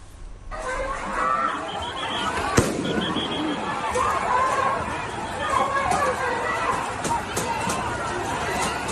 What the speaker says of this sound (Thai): มันมีเสียงเหมือนระเบิดหรือโยนอะไรสักอย่าง